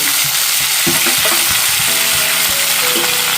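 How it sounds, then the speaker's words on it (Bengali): Cauliflower, carrot and potato lightly frying in a pan: a loud, steady sizzle runs throughout, with scraping and knocking as the vegetables are stirred. "দিয়ে আমি হালকা ফ্রাই করে নেবো"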